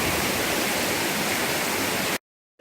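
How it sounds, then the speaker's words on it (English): A waterfall at the end of a climbing trail roars in a steady, dense wash of rushing water, loud and close, then cuts off abruptly into silence. "It was worth the climb to see this waterfall here."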